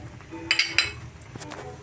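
Carrots and other vegetables are dropped into a cooking pot, giving a few quick, bright clinks of metal utensil against the pot in the middle, over a low kitchen background.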